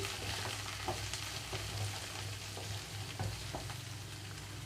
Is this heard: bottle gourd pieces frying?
yes